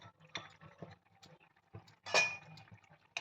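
A spoon stirs coriander into paneer gravy in a pan, making quiet, irregular metallic clinks and scrapes, with one brighter clang near the end.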